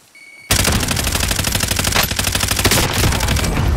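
Rapid automatic gunfire erupts in a military shooter game, a loud sustained burst of close shots with dense rattling bursts continuing nonstop after a brief quiet start.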